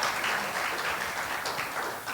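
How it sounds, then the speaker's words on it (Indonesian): A church congregation at a Christmas service claps together, a dense, steady roar of applause that stays loud and even for a couple of seconds. "tepuk tangan buat Tuhan."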